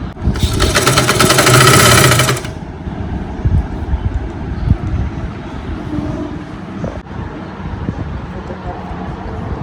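A sewing machine stitches a seam on a lining top in one loud, fast, rattling run for about two seconds, then stops and a person talks.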